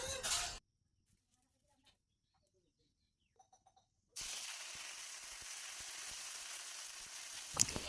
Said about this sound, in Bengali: কড়াই বসিয়ে দিলাম, এবার দিয়ে দেব তেল আর দিয়ে দিব ফোড়ন